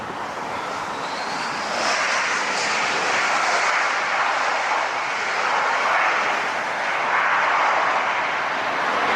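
An Iberia Airbus A350-900 jet at Los Angeles International Airport, a loud continuous engine roar that swells slightly and holds steady, heard from nearby without voices.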